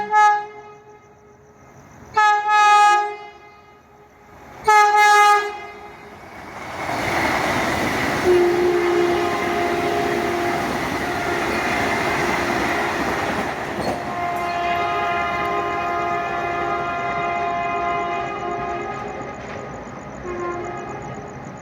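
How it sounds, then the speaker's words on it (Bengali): A Vande Bharat Express semi-high-speed train sounds three loud, sustained horn blasts, then rushes past close by with a long, roaring rumble of wheels and rails that fades slowly. No voices are heard. "চলে গেল মাঝে সেই চিরপরিচিত বন্দে ভারত এক্সপ্রেস"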